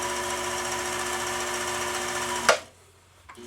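A sewing machine, a 1222SE model during final tuning, runs steadily stitching a wide zigzag, its dense mechanical whir continuous and close for about two and a half seconds before stopping abruptly, followed by a brief quiet and a faint click.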